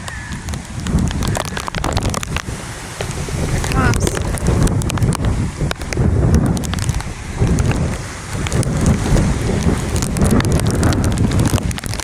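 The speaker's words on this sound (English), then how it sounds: "we're about to get a gust here in just a minute" Hurricane Milton's wind roars outdoors in a steady, loud, broadband rush that swells into stronger gusts and buffets the microphone for the whole stretch.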